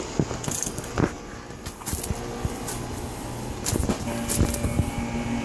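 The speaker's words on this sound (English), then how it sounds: "That is an air rim motor." A Casablanca ceiling fan with an air rim motor runs nearby, giving a steady mechanical whir with faint tonal hum and scattered small clicks and rattles, with no talking.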